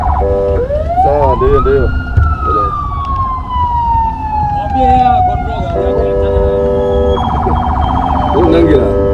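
A wailing emergency siren sweeps up and down in pitch, then switches to a rapid yelp, loud and close in a busy outdoor setting, with people talking over it.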